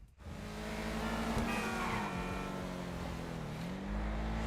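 A steady engine drone from an Ubermacht Sentinel GTS sports car in GTA V Online as it cruises along a highway, holding a smooth, continuous purr with small shifts in pitch.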